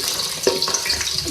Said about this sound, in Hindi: सबसे पहले ऑयल में हम 2 मीडियम प्याज ऐड करेंगे